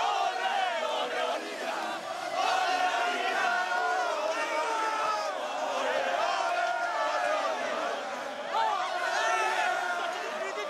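SC Bastia fans crowd onto the pitch after a match against Châteauroux, a dense, steady roar of chatter and shouting that fills the whole stretch without a break.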